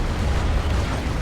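A D-cannon artillery blast in Dawn of War 2 produces a loud, dense, rumbling explosion that fills the whole moment with heavy low boom and noisy debris.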